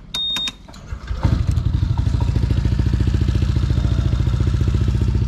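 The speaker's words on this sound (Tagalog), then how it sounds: "So, yun na yung tunog ng pipe natin." A Honda ADV160 motorcycle starts after a few clicks, then idles loudly through a JBT exhaust pipe with a rapid, steady putter close by.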